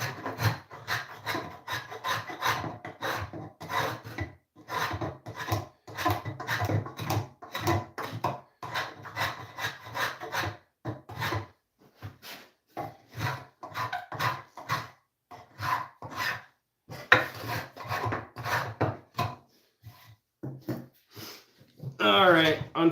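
A hand tool files and shapes a wooden spatula with dense, rapid rasping strokes that come in bursts with short pauses, close up and fairly loud.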